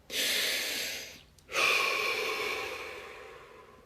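Two deep, slow breaths taken close to the microphone during a guided relaxation session, each a long airy rush separated by a short pause, with no talk.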